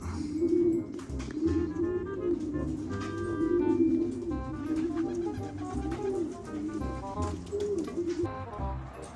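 Racing pigeons returning from a 50 km release coo steadily in low, rolling bursts close by, with faint rustling and wing sounds around them.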